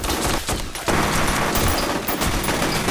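Machine gun fire in the video game F.E.A.R. Extraction Point gives a loud, dense burst of rapid shots with booming impacts that fills the whole stretch without a pause.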